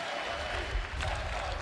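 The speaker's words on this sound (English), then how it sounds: "Rez, give them something more to cheer about as he takes down Shocks" An esports arena crowd cheers and applauds steadily throughout a CS:GO match between G2 Esports and Ninjas in Pyjamas at a DreamHack Masters semi-final. The broad, continuous roar is heard without distinct talk.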